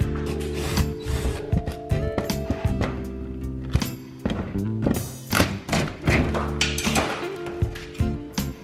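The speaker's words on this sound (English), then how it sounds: "I need to take off the skylight." Work on an RV roof to remove an old skylight: close scraping, creaking, tapping and ratcheting tool noises in an irregular stream, with no talk.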